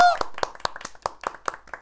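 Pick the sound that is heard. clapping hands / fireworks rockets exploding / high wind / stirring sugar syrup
clapping hands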